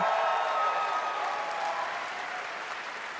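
Applause from a large audience at the Bethesda E3 press conference, a dense wash of clapping that starts full and gradually fades toward the end, heard alone without speech.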